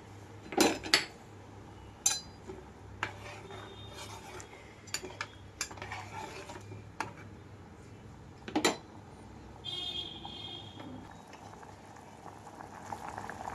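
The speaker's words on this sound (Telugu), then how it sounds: "ప్రెషర్ కుక్కర్ మూత పెట్టుకోవాలి" A pressure cooker lid is set and closed over boiling water for jeera rice with coriander, producing a few sharp metallic clanks and scrapes over a quiet, steady bubbling.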